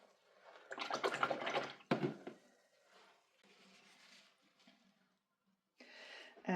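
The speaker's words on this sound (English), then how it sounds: "Let's wash that brush out." A paint brush swished and rinsed in a water pot, with bursts of splashing and dripping, then quieter swirling and a brief pause before another splash, close and soft.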